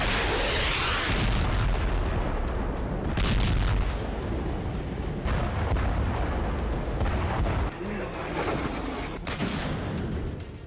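Gunpowder fire near Moscow, with heavy booms and crackling blasts rolling over one another in a dense, continuous roar, loud and distant-sounding, with no voices.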